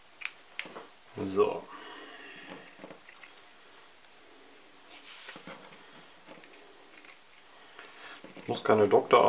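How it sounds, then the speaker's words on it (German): Sharp tailor's scissors cut out fabric for a handmade DIY hand puppet with soft, close snips and rustles. A voice talks over parts of it, and a louder burst of cloth handling comes at the end. "Dann schneiden wir das Ganze aus, ohne die Schere fallen zu lassen."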